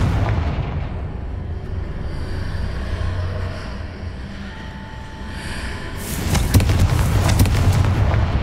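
A Confringo blasting spell explodes in Hogwarts Legacy, a steady rumbling roar of battle that swells into a sharp, crackling burst near the end, loud and close.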